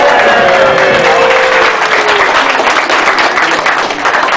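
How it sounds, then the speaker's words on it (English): Audience applause at an evening memorial gathering, sustained and fairly loud throughout, with a music tone sliding beneath it early on. "Let's give her a round of applause."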